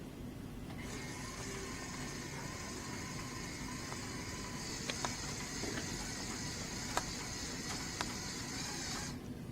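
Small DC motors powered by 9-volt batteries drive a LEGO carousel and Ferris wheel, giving a steady faint whirring hum with a few soft clicks and ticks.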